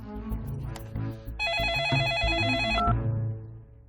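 A telephone rings in a sitcom-like indoor scene, a bright electronic warbling ring that holds steady for about a second and a half before cutting off, with low murmuring and shuffling sounds around it.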